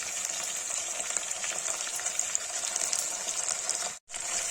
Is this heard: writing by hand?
no